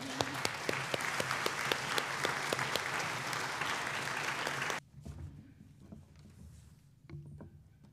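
A congregation at a Sunday service applauds its religious education instructors, brisk many-handed clapping with sharp individual claps standing out, then cutting off abruptly into a quiet room with scattered movement and a few faint claps.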